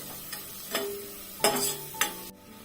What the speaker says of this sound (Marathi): मसाला छान परतून घ्यायचा मीडियम वर परतून घ्यायचा